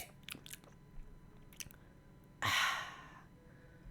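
A single loud, breathy slurp of coffee comes after a stretch of faint, scattered clicks and small mouth sounds, close to the microphone.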